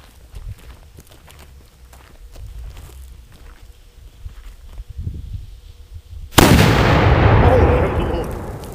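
Large Thunder Mug mortar firing outdoors: a single loud deep boom that trails off into a long rumbling decay, preceded by quieter footsteps and rustling.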